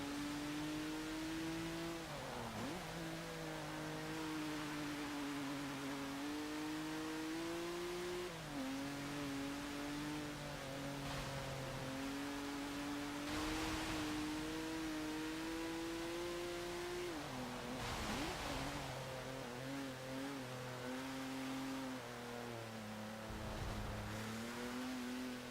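A 2017 Lincoln Continental engine in the Forza Motorsport 7 racing game revs loudly and steadily, its pitch climbing and dropping with repeated gear shifts and no talk over it.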